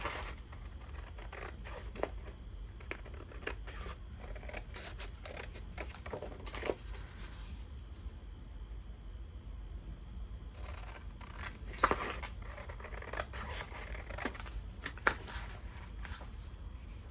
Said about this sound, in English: I'm just going to cut these so they're straighter.